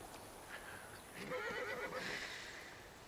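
A horse gives a faint, quavering whinny partway through, set against a steady hiss of outdoor background noise, with no talking.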